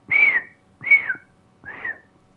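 A person whistles three short notes, each a slightly falling tone, evenly spaced with brief pauses between them, close and clear with no talking.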